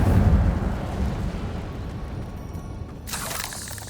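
Incendio fire spell cast in Hogwarts Legacy, a deep rumbling fiery whoosh that swells loud at the start and slowly fades, with a brighter crackling burst flaring near the end.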